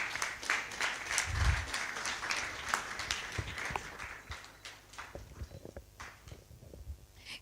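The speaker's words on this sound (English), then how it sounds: "A round of applause, please." Scattered applause from the audience at a university Accounting and Finance Club summit, fairly faint and uneven, with a low thump near the start and clapping that thins out toward the end.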